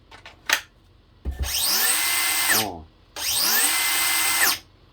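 DeWalt DCS438B 3-inch cordless grinder spinning up in two loud, steady bursts of high-pitched whine, each about a second and a half long, preceded by a few clicks and a short rev.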